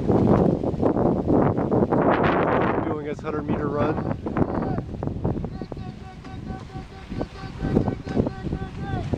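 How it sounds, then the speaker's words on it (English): Gusty wind buffets the microphone beside the water at a small sailing craft race, rumbling steadily beneath people talking throughout. "And it's windy enough"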